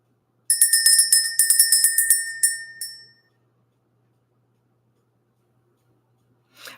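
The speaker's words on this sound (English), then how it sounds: "We're going to ring the bell." A bell, apparently a ritual or meditation bell, rings in a quick run of bright metallic strikes for about three seconds, close and clear, then fades into silence; a faint brief noise follows near the end.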